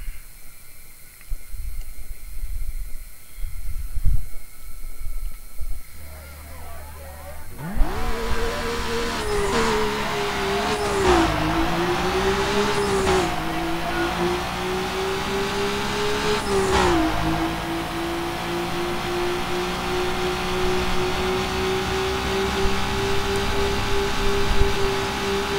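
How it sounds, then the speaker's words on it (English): A Mazda RX-7 rotary engine in the racing game Need for Speed Underground, quiet menu sounds giving way to a loud revving engine that climbs through several gear shifts and then holds a steady high drone, no talking. "It feels somewhat better driving the RX-7, even though the RX-7 is kind of loose."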